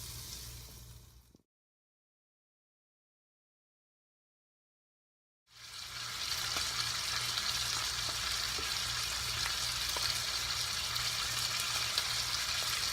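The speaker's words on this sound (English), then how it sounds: "I'm just taking a big hunk of butter, stick it into the cast iron. Isn't that a cool sound?" Butter sizzling and hissing in a cast iron pan, a steady bright crackle that briefly drops to silence before returning loud and continuous.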